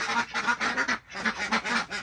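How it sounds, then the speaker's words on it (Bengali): Farm ducks being given medicine quack close by in quick, repeated bursts, with one brief pause midway before the loud calling resumes. "এখন হচ্ছে সবগুলা হাঁসকে ওষুধ খাওয়াইতেছি"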